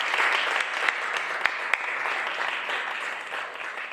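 Audience applause at a literary homage to the poet Carlos Álvarez, a dense, steady round of clapping with a few sharper claps standing out, fading slightly toward the end.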